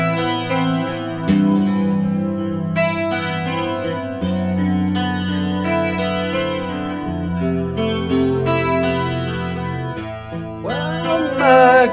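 Electric guitar run through a lush chorus pedal with added delay and reverb, playing sustained chords and melodic lines with a shimmering, wide modulation, loud and close throughout with no talking.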